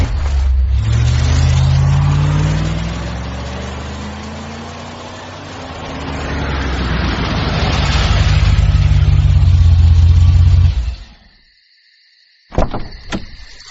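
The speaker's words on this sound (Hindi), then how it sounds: "गाड़ी बढ़ा" A car engine revs and accelerates as the vehicle drives off, loud and close, rising and holding for about ten seconds before cutting out, followed by a brief electronic tone.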